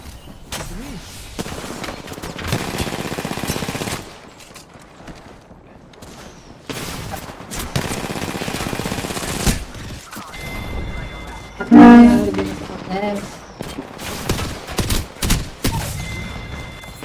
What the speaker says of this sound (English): Smart bullets hunting foes